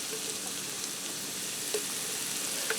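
Pre-diced garlic frying in a pan for creamy garlic chicken: a steady, close crackling sizzle with a few soft pops and no talk.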